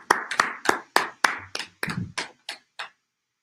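Men in a Tuesday brotherhood class clapping hands together in unison, ten sharp claps in a steady rhythm, close and distinct, with a faint voice under the middle claps before they stop.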